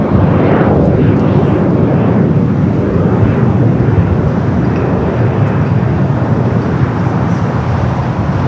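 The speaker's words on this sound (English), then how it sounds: "the Lufthansa A380 Super looks like a south side arrival coming up" A Lufthansa Airbus A380 airliner arriving at LAX roars loudly and continuously overhead, a heavy broadband jet rumble that holds steady throughout with no voices.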